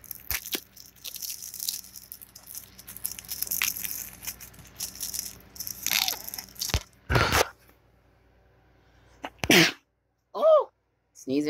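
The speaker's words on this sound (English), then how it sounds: "Sneezing on camera." A person sneezes outdoors in the sun, a sharp burst near the end after quiet stretches, with some talking earlier.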